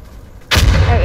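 A grenade explodes in the video game Insurgency Sandstorm, a sudden loud blast that cuts in after a quiet moment and rolls on as a heavy rumbling roar with lingering debris and echo.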